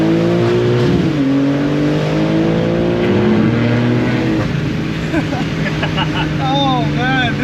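A 2023 BMW G80 M3 accelerates hard, the engine rising through the revs, easing off at a shift, then climbing again with loud, close exhaust crackles and pops as the car pulls away.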